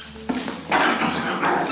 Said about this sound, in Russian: Рычит на остальных и не хочет им ее отдавать.